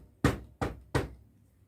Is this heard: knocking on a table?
yes